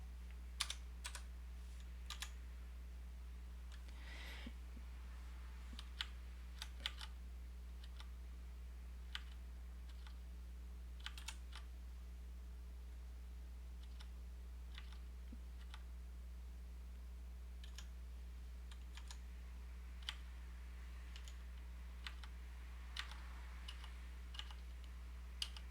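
Scattered sharp keystrokes tapped on a computer keyboard that has some keys failing, irregular and fairly quiet over a steady low electrical hum, with no one talking.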